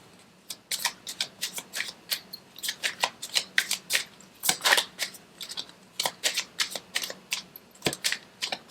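Tarot cards shuffled by hand in a steady run of crisp, papery riffles and snaps, close and fairly quiet, with a few brief pauses between bursts.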